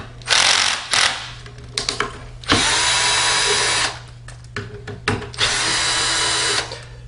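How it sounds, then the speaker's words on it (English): A power driver spins screws loose from a Martin Yale 7000E unit in three loud, close bursts, with short clicks and handling noises between them. "I am going to use our power driver."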